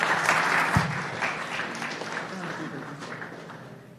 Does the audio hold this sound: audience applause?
yes